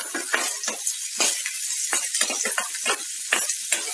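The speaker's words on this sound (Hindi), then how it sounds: "उसके बाद आपने इसमें बारीक कटी हुई प्याज डाल लेनी है" Finely chopped onion fries and gets stirred in a pan for egg curry, with a steady sizzle broken by repeated scraping and clinking strokes of a utensil, heard close up with no talking.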